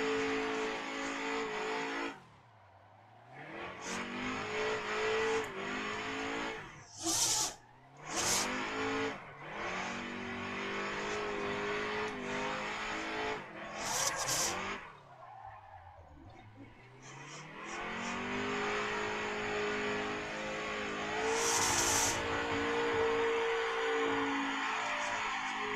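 A drifting car revs hard again and again, its engine rising and falling in long sweeps while the tires squeal and screech in loud bursts, with brief lulls between runs.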